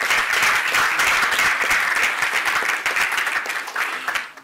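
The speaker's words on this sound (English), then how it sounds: "A round of applause for yourselves." Audience at a live masterclass event applauding themselves, a dense, loud burst of clapping that holds steady and then tapers off at the end.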